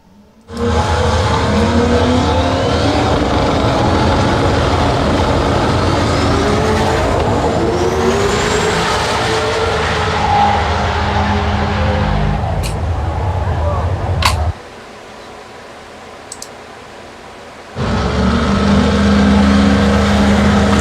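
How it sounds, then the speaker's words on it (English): Drag racing cars at Holley LS Fest East roar loud and close, a dense sustained engine blast broken by a sudden drop to quieter background before the racket returns, with a few sharp camera-like clicks and some talk in the mix. "here's some drag racing stuff."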